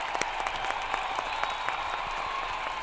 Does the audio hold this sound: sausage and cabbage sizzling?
no